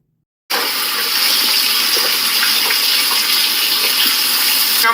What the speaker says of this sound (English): I'm gonna make my cabbages wet.